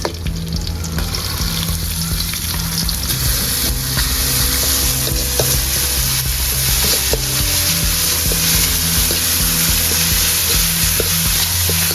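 Onions sizzle and fry loudly and steadily in a pan for a Sri Lankan fish milk curry, a continuous close crackle with faint stirring and no voices.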